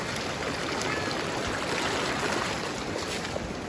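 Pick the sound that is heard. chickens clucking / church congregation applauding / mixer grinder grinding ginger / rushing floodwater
rushing floodwater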